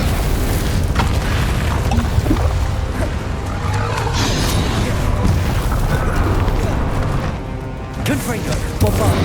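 Roaring Incendio fire spell blasts in the Hogwarts Legacy video game on PC, a loud sustained wall of booms and crashes with a brief dip near the end, under shouted spell names.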